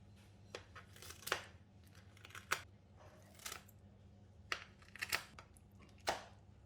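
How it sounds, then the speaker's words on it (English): Quiet, intermittent snips of scissors cutting choy sum into short lengths, irregular single cuts spaced a second or so apart over a low background hum. "With a pair of scissors, cut the choy sum into bite-sized length."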